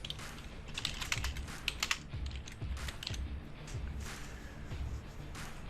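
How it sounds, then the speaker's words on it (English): Fingers type steadily on a computer keyboard in a quiet room, a continuous run of soft, close key clicks with no voices. "we are then able to type"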